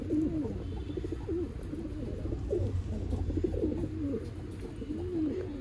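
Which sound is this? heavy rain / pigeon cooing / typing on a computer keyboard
pigeon cooing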